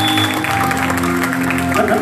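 A loud, steady wash of audience applause fills a church youth service as children get ready to sing, continuous from start to finish with a faint voice under it.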